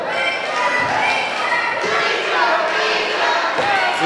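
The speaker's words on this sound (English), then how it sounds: "A live crowd here chanting John Campbell." A live crowd at an indie wrestling event, Imperial Wrestling Entertainment, chants a wrestler's name in a loud, dense, steady roar of many voices that fills the whole moment.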